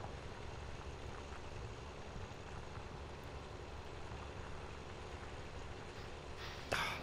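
A 450 tractor engine in a farming video game chugs along in a steady, low continuous drone, moderately loud and unbroken, with a brief burst of noise near the end.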